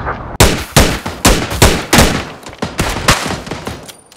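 Loud, evenly spaced gunshots in a PUBG esports match, about a dozen sharp reports fired in a steady rhythm close by, with no talk over them.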